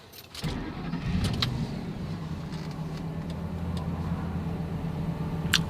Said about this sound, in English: Start engine and press OK.